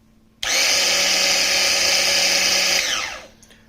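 A KitchenAid coffee grinder with freshly replaced brushes whirs loudly and steadily for about two and a half seconds after a sudden start, then winds down and stops.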